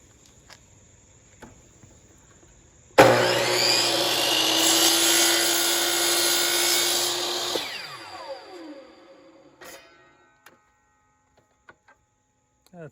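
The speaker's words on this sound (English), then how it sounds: "So we'll move over to the chop saw." Chop saw spinning up and slicing through wood held by a hold-down clamp, a loud whining cut of several seconds that winds down as the blade slows, followed by a few light knocks.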